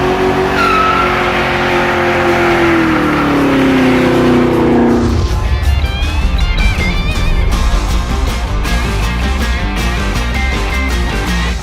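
A 2018 Chevrolet Camaro ZL1 1LE driving, its engine note rising and falling before giving way to loud road and tire noise with a continuous rumble, close and sustained throughout.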